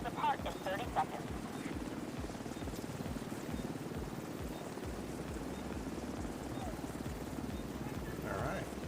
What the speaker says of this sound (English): Extraction initiated.